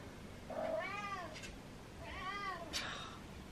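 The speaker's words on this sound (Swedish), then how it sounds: "Var tog katterna vägen? Var är katterna?" Two cats give two drawn-out, rising-and-falling meows about a second and a half apart, soft and fairly close in a quiet indoor space.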